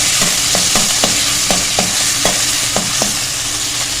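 Ginger garlic paste sautéing in a pan, with a steady loud sizzle of hot oil and repeated sharp scraping taps of a spatula stirring at an irregular rhythm.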